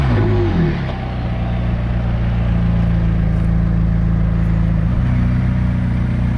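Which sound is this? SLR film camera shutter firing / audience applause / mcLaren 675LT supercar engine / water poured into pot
mcLaren 675LT supercar engine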